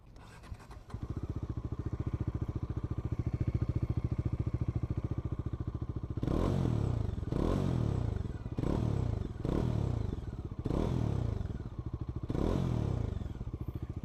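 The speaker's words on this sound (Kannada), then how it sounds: "ಆಮೇಲೆ ಇದ್ರದ್ದು ಥ್ರಾಟಲ್ ಸೌಂಡ್ ಕೇಳಿಸ್ತೀನಿ ನಿಮಗೆ, ಎಕ್ಸಾಸ್ಟ್ ನೋಟು" Bajaj Dominar 400 motorcycle idles with a steady thumping exhaust note, then the throttle is blipped in five or six sharp revving bursts, loud and close, with no speech.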